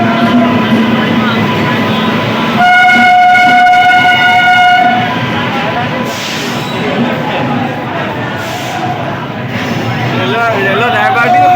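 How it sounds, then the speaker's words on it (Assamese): A train pulls into a station, its wheels and wagons rumbling close by. A long, loud horn blast sounds midway through, and the rumble rolls on underneath. "ট্ৰেইন আহি গ'ল"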